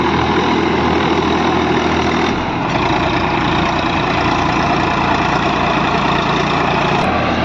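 Two Massey Ferguson tractors, an 8055 and a 245, run side by side in a steady, loud diesel engine drone that stays constant throughout, with no talking.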